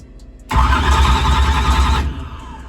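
A newly installed starter motor cranks a car engine in a steady, loud, close whir that begins abruptly and runs for about a second and a half before cutting off, leaving a quieter hum.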